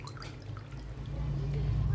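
Tamarind fish curry (chepala pulusu) broth being poured off while leftover pieces are held aside: a steady liquid pour with soft dripping and splashing over a low kitchen rumble, with no talk.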